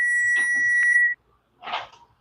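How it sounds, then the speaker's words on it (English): A kitchen oven timer buzzer sounds one steady electronic tone for about a second, loud and close, then a short burst of kitchen clatter follows after a brief pause. "There goes the first buzzer."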